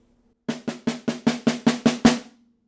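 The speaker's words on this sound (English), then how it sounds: "So measure 24 without buzzes will sound like this." A snare drum plays etude measure 24 without buzz rolls: nine crisp, evenly spaced strokes that grow steadily louder, close and alone, ending on an accented hit.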